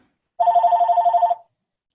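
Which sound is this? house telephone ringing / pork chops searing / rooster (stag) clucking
house telephone ringing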